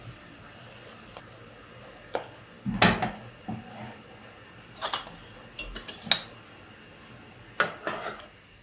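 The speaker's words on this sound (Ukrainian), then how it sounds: "накриваю кришкою" A metal lid knocks and clatters onto a cooking pot of boiling varenyky (Ukrainian dumplings) in a home kitchen, a scatter of close, sharp clinks and taps spread over several seconds with quiet gaps between.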